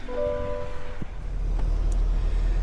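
A lifted 2026 GMC Sierra 3500 AT4 pickup with a 3-inch BDS lift pulls away and drives, a low steady rumble with a few brief tones and clicks early on, no talking.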